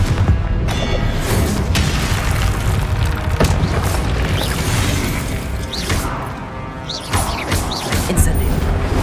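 Booming blasts and crashing debris from the Confringo explosion spell in Hogwarts Legacy, loud and dense with repeated impacts over a rumbling background.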